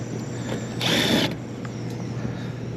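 A power tool drives screws into a commercial HVAC unit panel on a rooftop, with one short whirring burst of about half a second rising over steady background equipment noise.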